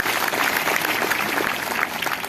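An indoor audience at an Indiagro products training session claps in steady, dense applause, moderately loud and continuous for a couple of seconds.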